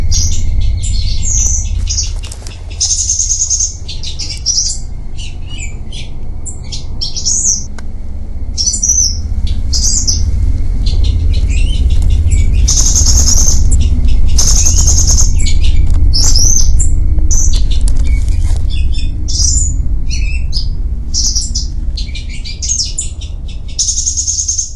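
Songbirds caught on poachers' glue sticks in Spain chirp and call constantly, with bursts of frantic wing flapping, over a steady low rumble of background noise for the whole stretch.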